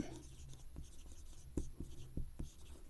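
A pen scratches on paper as a math lesson's working is jotted down: quiet, close strokes with a few sharper taps, no voice heard.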